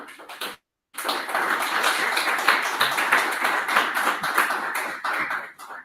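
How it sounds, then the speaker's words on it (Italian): Audience applause in a hall, dense steady clapping from many hands, loud and close, following a brief pause after an opening patter of claps, with no talking over it. "In sala ti fanno un applauso"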